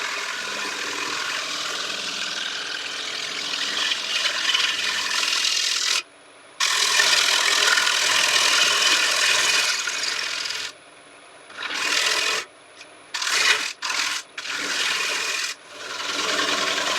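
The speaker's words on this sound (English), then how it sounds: "With some of the shaping done with the bowl gouge" A bowl gouge shaping a large cedar shield on a woodturning lathe: harsh, continuous close scraping and hissing cuts in long passes, broken by several abrupt pauses near the end.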